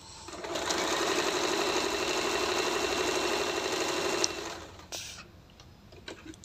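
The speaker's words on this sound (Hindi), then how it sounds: "आपने सीधा उस पर सिलाई मशीन चलानी है" A sewing machine stitches salwar pieces along a chalk mark in a fast, steady whir of needle ticks, running close and loud for about four seconds before stopping, followed by a few small clicks.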